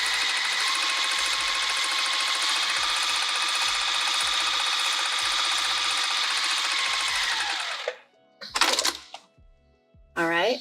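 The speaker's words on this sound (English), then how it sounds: "So I'm going to take this over to the sewing machine." Sewing machine stitching the bottom seam of a luggage sleeve runs in a fast, steady whir for several seconds, then stops, followed by short bursts of handling noise and talk.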